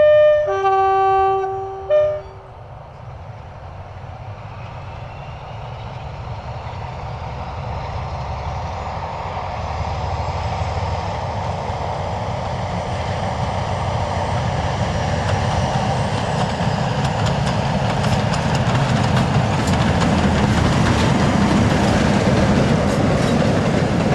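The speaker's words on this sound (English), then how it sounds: "47714 is seen between Craighall and Newton Le Willows on the Wensleydale Railway, moving wagons" After a brief two-tone horn, a Class 47 diesel locomotive, 47714, hauls wagons past on the Wensleydale Railway, its engine rumble and clattering wheels growing steadily louder and nearer over twenty seconds.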